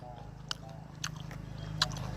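Close, wet chewing of tough grilled pork intestine, with a few sharper bites cutting through a steady low mouth noise, heard alone.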